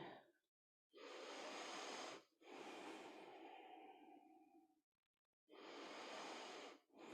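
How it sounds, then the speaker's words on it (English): Slow, deep breathing during a yoga practice, heard up close as long, airy inhales and exhales separated by brief silent pauses, with no talk. "Notice your breathing."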